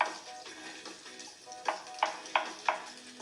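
Thinly sliced button mushrooms hitting a hot pan, a bright sizzle with stirring scrapes and four sharp rhythmic clatters near the end, close and loud with no voices.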